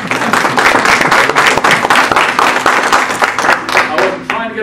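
An audience at an economics talk on baseball stadiums breaks into steady applause, dense clapping that fills the whole stretch and fades slightly at the very end.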